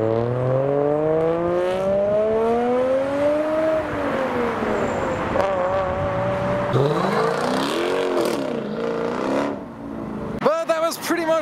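Several Nissan Skyline R33s rev at a Petrol Heads car meet at Runnymede in Egham, engines rising and falling loudly up close, with voices talking over the roar throughout.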